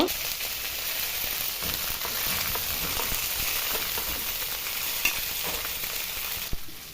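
Ginger paste frying in a pan with whole cumin for fried rice, giving a steady, dense sizzle with faint stirring scrapes, close and continuous without speech.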